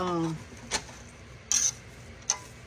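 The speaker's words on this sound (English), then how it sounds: "I'm trying to mix them up now so that each one of them come apart" A utensil clinks and scrapes against a pot of onions cooking in butter and olive oil, giving three brief sharp knocks that stand out clearly over a quiet background, after a short voice at the start.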